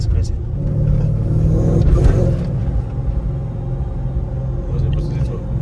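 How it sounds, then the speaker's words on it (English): A supercharged Mercedes E55 AMG engine rumbles steadily at close range, swelling briefly as it revs, while people talk over the deep, continuous drone. "you hear the supercharger a little bit?"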